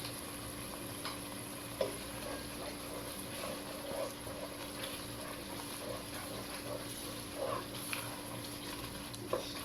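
Chicken shorba with homemade garam masala fries in a pot over high heat, and a quiet, steady sizzle runs throughout with a few soft clinks and stirring scrapes.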